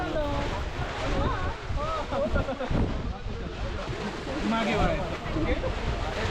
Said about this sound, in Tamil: செம்ம குளிர் செம்ம காற்று